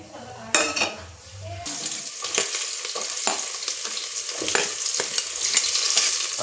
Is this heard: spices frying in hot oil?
yes